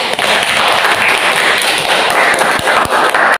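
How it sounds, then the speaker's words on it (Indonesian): A classroom audience gives a round of applause, a steady, dense wash of many hands clapping fairly loudly for about three seconds before cutting off abruptly. "Kita berikan aplaus"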